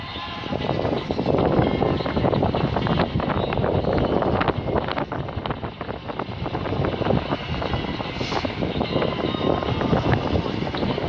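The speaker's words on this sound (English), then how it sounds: "it's really windy out today" Strong wind buffets the microphone at a railway junction, a loud continuous rumbling roar with gusts that stays steady across the whole stretch, no voices heard.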